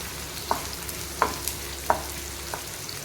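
Small shallots sauté in hot oil for a Chettinad mutton gravy, a low sizzle under four evenly spaced taps of a spatula against the pan, close and without speech.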